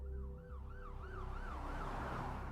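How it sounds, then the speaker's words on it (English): Ambulance siren wailing in a rising and falling pattern, growing louder over a low engine rumble, with no talk. "An ambulance soon arrived and paramedics sped the fugitive to the hospital"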